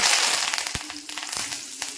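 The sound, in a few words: curry leaves sizzling in hot coconut oil with mustard seeds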